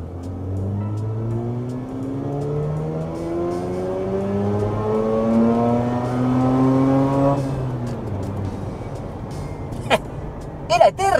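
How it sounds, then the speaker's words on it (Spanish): A Mazda RX8 rotary sports car accelerates hard in second gear from about 2000 rpm, its engine note climbing steadily for several seconds before a sharp cut near the top, followed by a few clicks and thumps. "vamos a hacer una recuperación a 2000 vueltas y escuchen cómo el auto no deja de acelerar"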